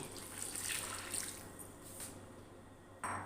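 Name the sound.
a glass of water poured into a frying pan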